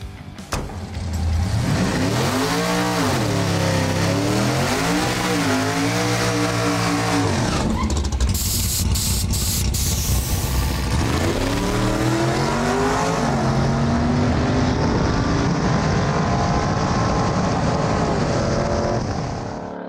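A Ford Granada sleeper car with a twin-bottle 125-horsepower nitrous plate system launches down a drag strip, its loud engine climbing through revs, dropping at a gear shift, then roaring again as it pulls away and fades.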